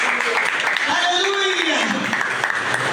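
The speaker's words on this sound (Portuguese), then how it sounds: "Então dê um aplauso ao Senhor e volte para o seu lugar." A church congregation applauds during a worship service, a steady wash of clapping that runs throughout, mixed with a voice and background music.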